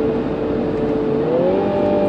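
A 2020 Mini Clubman JCW engine pulls hard under acceleration, a loud steady drone climbing in pitch as revs rise, heard close from inside the car with no talk.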